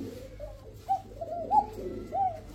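Bashiraj pigeons, an original male and female pair with thin, high voices, cooing in three rounded bursts at a steady pace, fairly close and alone against a soft background hum.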